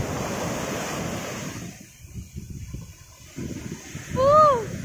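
Strong rainy-season sea waves breaking on Pantai Penarik beach in Setiu, with a steady roar of surf and wind buffeting the microphone, and a brief whistle-like tone near the end.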